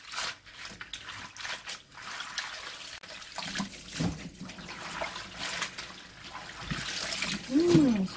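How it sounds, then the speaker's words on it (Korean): Water trickling and sloshing as godeulppaegi greens are rinsed again after soaking in cold water, with splashes, drips and handling of wet leaves, fairly close and uneven in rhythm. "씻었다가 다시 찬물에 헹궈놓은 걸 다시 씻습니다"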